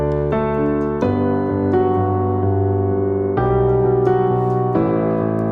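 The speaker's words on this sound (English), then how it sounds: "the piano player is kind of doubling up that guitar hook" A piano doubling a guitar hook in a worship song, a bright, steady melodic riff over sustained chords, with new phrases entering about every second and no voices.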